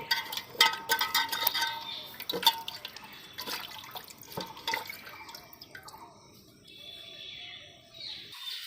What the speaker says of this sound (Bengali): এবার আমটাকে আমি ধুয়ে নিচ্ছি।